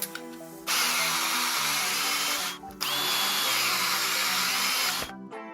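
A Ryobi P592 battery-powered cutting tool whines loudly in two sustained bursts with a brief pause between them, close up and steady in pitch, with no talk.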